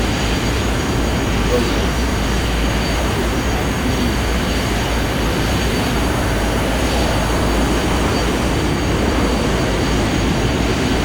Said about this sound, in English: What that is taking off, but it's a Boeing aircraft.